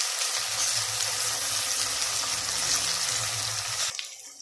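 Garlic and ginger fry in a pan for dal mash, giving a steady, close hiss of sizzling oil that cuts off abruptly near the end.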